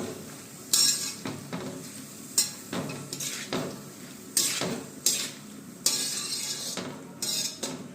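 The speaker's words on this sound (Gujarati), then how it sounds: "હવે આપણે મીઠું નાખી દઈશું અને સરસ રીતના એકવાર બધું આપણે મિક્સ કરશું" Valor beans are stirred with salt in a cooking pan, giving repeated scraping and clinking strokes of a spoon against metal with soft sizzling underneath, in irregular bursts about a second apart.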